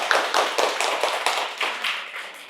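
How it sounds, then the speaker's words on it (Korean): A small audience at a public lecture on redevelopment apartment taxes claps in a quick, even rhythm, about nine sharp, close hand claps slowly fading over two and a half seconds, with no talking. "박수 한번 쳐봐 그러면"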